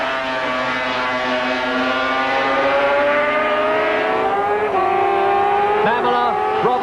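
A yellow and white four-cylinder Suzuki 500cc Grand Prix racing motorcycle at Silverstone screams close by with a high, buzzing two-stroke wail that climbs through the gears and then drops sharply as it shifts and passes.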